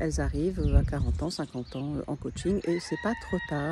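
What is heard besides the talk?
rooster crowing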